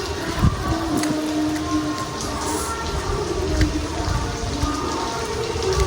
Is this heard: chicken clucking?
no